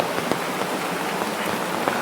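Steady rain falls at a riverside in a Konkan village where a traditional fish-trap dam is being built, a dense even hiss with scattered close drop taps and no voices.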